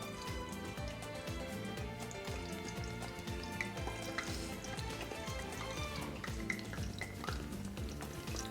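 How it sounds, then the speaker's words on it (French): Aubergine slices sizzle and crackle steadily in a bath of hot frying oil, a continuous close, bright spattering with occasional sharper pops, fairly quiet overall. "je vais les passer dans un bain d'huile. Je vais les faire frire pour les faire dorer"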